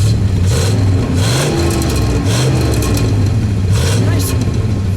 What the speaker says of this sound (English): Go ahead, give it a rev.